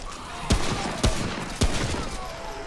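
Three sharp gunshots from the shooter video game Remnant, evenly spaced about half a second apart over steady game ambience.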